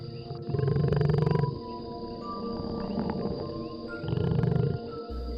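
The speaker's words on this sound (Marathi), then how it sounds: "क्वचितच दूर कुठेतरी रानात निनादलेली बिबट्याची डरकाळी सुद्धा ऐकू येई" Deep, rumbling leopard roars rise twice from a steady backdrop of insects in the distant wild, with no voices present.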